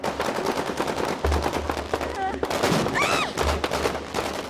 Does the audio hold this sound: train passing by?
no